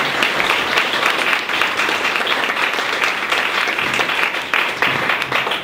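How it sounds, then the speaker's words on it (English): An audience at a panel on Ann Arbor festival marketing gives a sustained round of applause, dense and even throughout, with no voices on top. "Let's give them one last round of applause."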